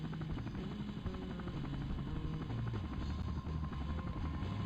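MD500 helicopter in the video game SimCopter, a steady, loud rotor drone with a buzzing blade beat running unbroken throughout, no talk over it.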